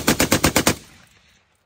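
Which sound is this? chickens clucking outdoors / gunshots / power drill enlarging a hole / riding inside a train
gunshots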